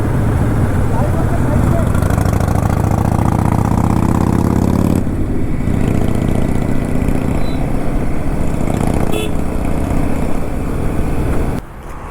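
A heavy Fat Boy motorcycle engine rumbles loudly and close during a group road ride, its deep throb rising in pitch over the first few seconds before settling into a steady, continuous drone.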